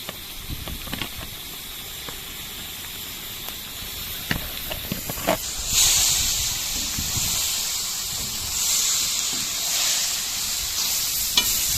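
Fried vegetables tipped into beef heart cooking in a kazan, bringing a few scraping stirs and then a loud surge of hissing, steamy sizzle that settles into a steady fry with no talk.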